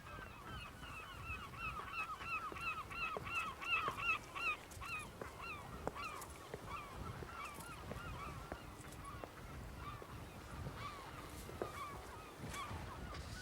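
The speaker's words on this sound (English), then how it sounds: "Fulmar petrels nesting, birds that were unknown on the mainland until the beginning of the century." Fulmar petrels call repeatedly from a seabird nesting cliff on the coast near Dunnottar Castle, a steady chorus of cackling, honking cries carried over wind and a distant outdoor background.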